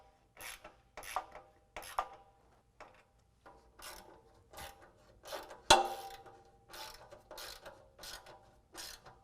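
A 1/2 inch ratchet tightens the nut side of bolts on a Fab Force Grumper front bumper for a Jeep JL, the bolts held with an Allen wrench. It gives repeated bursts of quick ratcheting clicks, close and moderately loud, with a sharp metallic knock midway.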